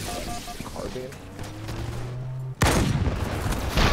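Gunfire in Halo 3: sharp, loud bursts crash in during the back half, following a stretch of game ambience with tonal hums, and a voice is heard speaking.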